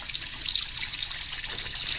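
Continuous soft trickling and bubbling of water from a hot tub in the Roblox game Brookhaven RP, a steady hissy wash of liquid noise with no speech over it.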